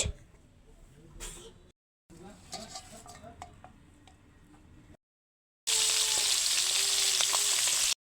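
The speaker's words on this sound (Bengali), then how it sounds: "তো প্রথমে মাছটা সুন্দর করে লাল লাল করে ভেজে নিচ্ছে" Taki fish frying in hot oil in a pan for a bottle-gourd curry, a steady close sizzle with clinks of utensils, broken by short silent gaps and a louder burst of sizzling at the end.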